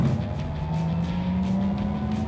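A Porsche Taycan Turbo S Cross Turismo electric car accelerates with a steady, gradually rising motor whine over road and tire noise, heard from inside the cabin without speech.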